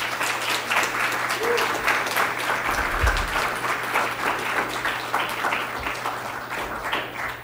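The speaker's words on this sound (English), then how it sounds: "Let's give our panelists a round of applause." Audience applause for a panel at a Great Lakes coastal resilience forum, steady sustained clapping from a full room lasting throughout, fairly close and even in loudness, tapering slightly near the end.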